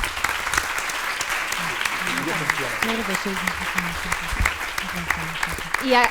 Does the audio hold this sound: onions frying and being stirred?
no